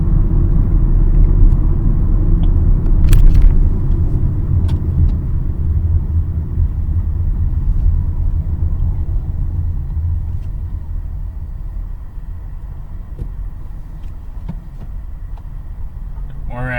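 A car moves through downtown Sacramento traffic, its steady low engine and road rumble running loud and continuous throughout, with a brief sharper noise early on and faint passing sounds above the hum.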